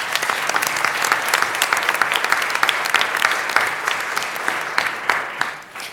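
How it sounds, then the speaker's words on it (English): A school board meeting audience applauds, dense crowd clapping that stays full and steady before thinning and fading out at the end. "Let's give them a big round of applause."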